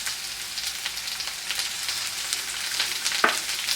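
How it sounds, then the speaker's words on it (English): Ingredients for a Greek omelet lightly sautéing in a pan: a steady close bed of hissing sizzle and fine crackle with no talk, plus one brief louder pop near the end. "So just lightly sauteing these."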